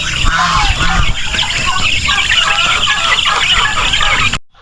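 A flock of chickens and geese clucking and honking together, loud and continuous, with overlapping calls close by.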